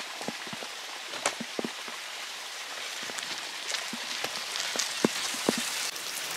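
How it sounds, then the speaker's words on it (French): Heavy rain falls outdoors as a dense, steady hiss, with scattered sharper drops pattering close by on a surface throughout. "Et là il pleut beaucoup."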